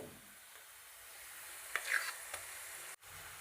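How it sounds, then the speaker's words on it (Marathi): Ground coconut paste frying in oil over medium flame with sautéed onion for a green moong amti; a faint, steady sizzle runs throughout with a few brief stirring scrapes near the middle. "खोबऱ्याचं वाटणही तेलात चांगलं परतून घ्यायचं आहे"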